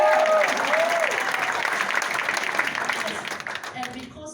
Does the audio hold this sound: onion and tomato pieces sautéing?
no